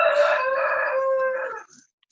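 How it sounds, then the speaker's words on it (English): A rooster crows once, a loud, clear call lasting over a second and a half before cutting off, heard alone in the background of an online meeting. "Somebody has a rooster?"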